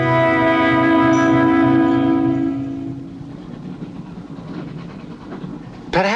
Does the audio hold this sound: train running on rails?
yes